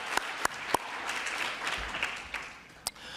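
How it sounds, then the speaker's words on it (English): An audience claps steadily for a few seconds, a dense patter of applause with a few sharper claps standing out. "let's give a big round of applause for the Women Engineers Planning Committee"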